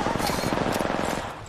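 Rapid gunfire in the video game Apex Legends, a dense burst of shots that fades near the end, mixed with speech.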